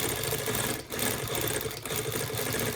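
A sewing machine quilts a McTavishing fill, its needle running in a steady, close mechanical whir with two brief dips where the stitching pauses.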